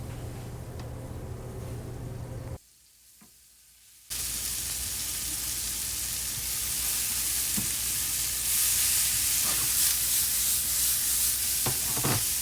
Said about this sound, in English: Now let this simmer for like 2 minutes. What you want to get all the liquid out the mushrooms.